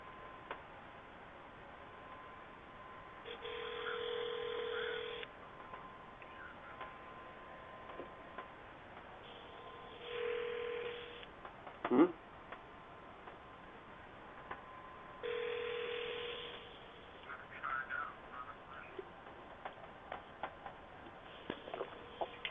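A phone call goes through with ringback tones repeating in several evenly spaced bursts, plus scattered clicks and a sharp tap, faint and with no talking.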